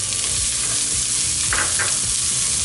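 Onion hitting hot olive oil in a pan crackles with a steady close sizzle, with a couple of brief spatters partway through and no talking.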